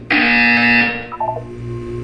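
A loud electronic buzzer from the video game Portal 2 blares for about a second, then a short sequence of quieter beeping tones follows over a steady background hum.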